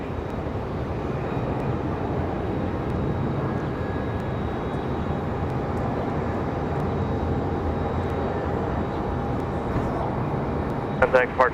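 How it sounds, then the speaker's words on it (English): A CRJ regional jet departs from Raleigh-Durham International Airport, its steady engine roar and rumble sustained throughout at moderate distance, with a voice talking over it. "A nice departure for the CRJ."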